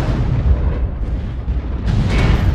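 Heavy, booming weapon fire from a battle mech in the video game MechWarrior Online, a dense, loud rumble of blasts with a sharper crack near the end, no talk.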